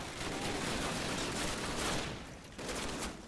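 Sustained burst of automatic gunfire from a machine gun position in the Call of Duty war game, dense and loud throughout with a brief dip near the end, no voices.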